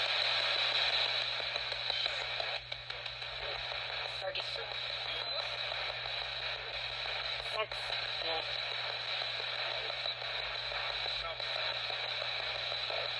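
A spirit box radio sweeps through AM channels, producing continuous hissing static broken by rapid clicks and brief chopped fragments as stations flick past, with a steady low hum underneath.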